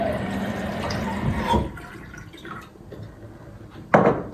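Water running into a container in a home kitchen, a steady pour for about a second and a half, then quieter trickles and drips, and a short sharp splash near the end.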